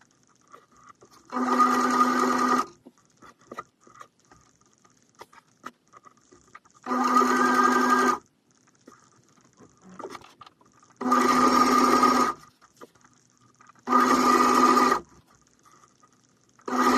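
A sewing machine stitching a showgirl costume runs in four distinct bursts of one to two seconds each, separated by quiet pauses, close and clear with no talking.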